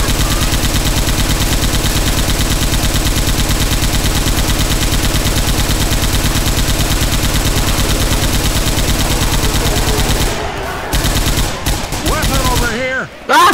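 Rapid automatic gunfire from an AK rifle in the zombie shooter Left 4 Dead 2, a dense continuous rattle of close shots that breaks into scattered bursts near the end.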